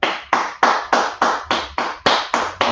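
A group claps hands in a steady, evenly spaced rhythm, about ten sharp loud claps close by in a class setting, with no talking over them.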